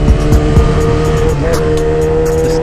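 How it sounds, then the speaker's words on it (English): A motorcycle engine runs loud and close while the rider pops the clutch for a wheelie, its pitch swinging up and down with the throttle over a continuous drone. "I pop the clutch with a smooth throttle"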